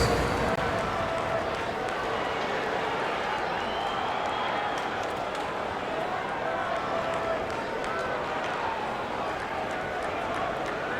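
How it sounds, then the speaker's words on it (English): Steady crowd applause and cheering filling an arena in the NBA 2K22 basketball video game, dense and continuous throughout. "One more round of applause for your performers."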